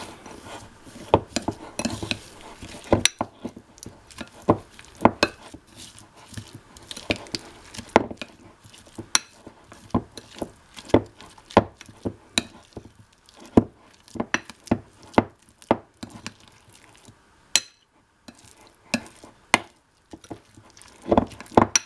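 Softened unsalted butter with salt, garlic and oregano is stirred into a spread, a utensil scraping and tapping against the bowl in irregular close clicks and rubs, with no talk.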